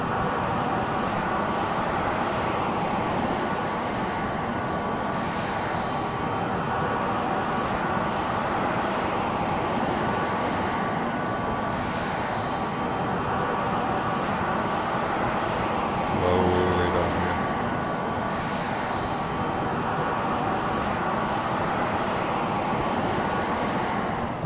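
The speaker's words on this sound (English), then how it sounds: "Jump takeoff again. And a vertical landing." Simulated AV-8B Harrier jet engine during a vertical landing in X-Plane 11 at Naval Air Station Patuxent River, a steady loud broadband roar held throughout, with a brief low thump around the middle.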